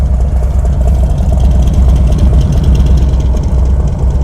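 A 2020 Harley-Davidson Low Rider S with a Cobra 2-into-1 exhaust idles loudly and up close, its deep, lumpy rumble continuing steadily throughout.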